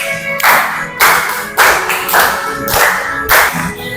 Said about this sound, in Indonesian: Sambil tepuk tangan juga boleh